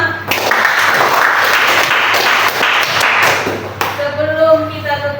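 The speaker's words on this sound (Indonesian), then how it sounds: "Aplaus untuk kita semua." Classroom applause from students after a lesson, a broad wash of clapping filling most of the clip, then fading as voices take over near the end.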